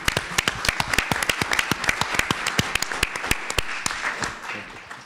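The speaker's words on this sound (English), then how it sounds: "let's give them a round of applause." A conference audience at a cardiology imaging case-study session breaks into applause, a dense stretch of many hands clapping with sharp individual claps standing out, steady and fairly close throughout.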